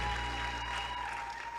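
A church congregation applauding during a sermon, a steady wash of clapping heard fairly faintly for a brief moment, with no talk over it.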